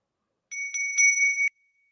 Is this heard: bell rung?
yes